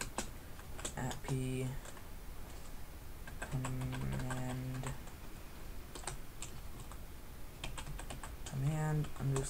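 A computer keyboard being typed on to enter a Minecraft command, with bursts of quick clicking keystrokes separated by pauses, and a voice talking over the typing at times.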